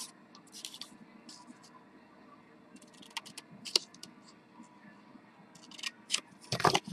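Scissors trim a long strip of paper for a Valentine craft: scattered crisp snips and light clicks, close and fairly quiet, with short bursts spaced irregularly over a low background.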